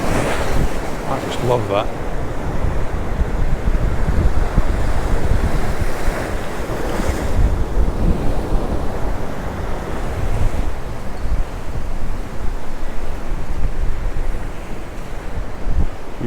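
Waves surge and crash along a windy Santa Ponsa shoreline in Mallorca, a steady roar of surf under loud wind buffeting the microphone, with a person briefly speaking near the start.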